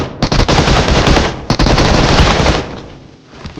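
Rapid automatic gunfire in BGMI/PUBG Mobile, a dense loud burst of close shots, a brief gap, then another long burst that trails off into quiet game ambience.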